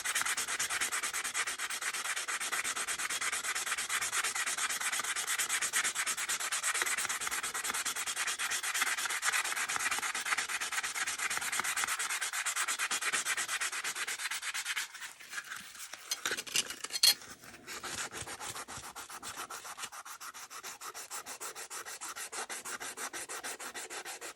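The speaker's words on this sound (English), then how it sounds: "That poly is clogging up my sandpaper." Sandpaper rubs back and forth over a knife blade, sanding off a polyurethane finish in a steady, close scratching rhythm, with a brief pause and a few irregular strokes before even sanding resumes.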